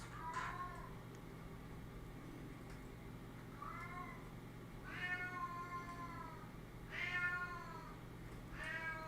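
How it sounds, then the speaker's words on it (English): A cat meows several times in a row, each call a rising, harmonic wail, spaced a second or two apart over a steady low hum, moderately close and fairly loud. "That cat is wild."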